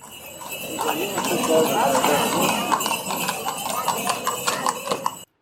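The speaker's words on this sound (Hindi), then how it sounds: "तभी देखा सामने एक तांगा वाला चले जा रहा है।" Horse hooves clip-clop steadily as a horse-drawn tonga carriage passes at night, a rhythmic clatter mixed with rolling wheel noise and high background tones.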